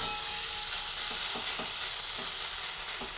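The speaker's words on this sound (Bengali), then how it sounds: "এইভাবে নাড়াচাড়া করতে করতে ফুলকপিটাকে একদম শুকিয়ে নেবো" Cauliflower fries dry in a pan under a loud, constant hiss of sizzling, with faint scraping stir strokes scattered through it.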